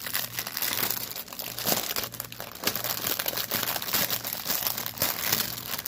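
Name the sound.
taking embroidery threads out of plastic baggie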